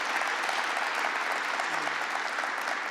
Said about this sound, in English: let's make sure we give a round of applause for Maureen as well.